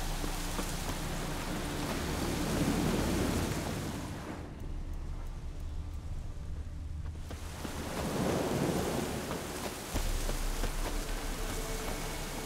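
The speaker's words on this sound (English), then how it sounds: "Nice rain effect." Rain in The Witcher 3 pours as a constant broadband hiss with low rumbling, easing slightly for a few seconds midway before returning at full strength, with no voices.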